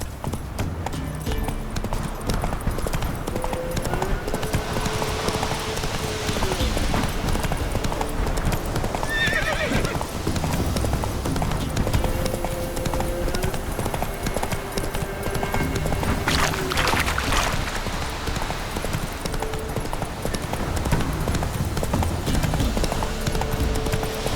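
A horse gallops in The Witcher 3 video game, steady rhythmic hoofbeats running throughout with occasional neighs and whinnies, set against ambient game sound.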